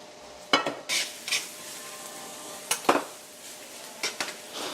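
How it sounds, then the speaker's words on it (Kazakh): Onions fry in vegetable oil for a bolognese sauce, with a faint, steady sizzle under intermittent sharp clinks and scrapes of a utensil stirring the pan. "Пиязымызды негізгі әдіспен қуырамыз."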